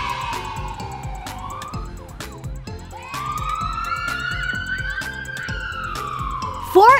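A wailing ambulance siren, accompanied by a rhythmic children's song with music, sweeps up and down in pitch through most of the clip, loud and close, with a sharp electronic chirp at the very end.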